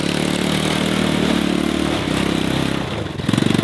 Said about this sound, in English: drive your Jeep up here, Hudson.